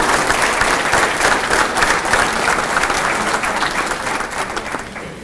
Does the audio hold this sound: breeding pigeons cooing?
no